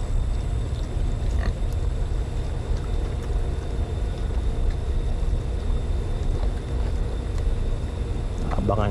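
Pigs tied up on a small backyard pig farm grunt and snuffle close by, low rough grunts repeating over a steady background rumble throughout.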